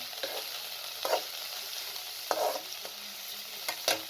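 Chicken pieces frying with light-browned garlic in a pan over medium heat, a soft steady sizzle with occasional louder stirring scrapes and clatters of a utensil against the pan.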